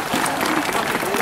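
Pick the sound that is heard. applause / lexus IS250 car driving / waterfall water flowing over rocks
applause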